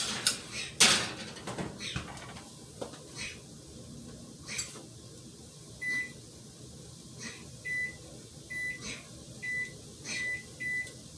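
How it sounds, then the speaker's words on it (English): Small cakes go into a kitchen oven: a couple of sharp knocks and clatters from the door at first, then a run of short, faint electronic beeps in a quiet room. "I'm going to put my little cakes in the oven."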